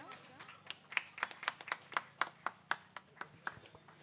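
A small audience at a parish unit's annual gathering claps for a quiz prize winner, a sparse run of distinct individual hand claps at moderate distance, fairly faint, with some speech underneath.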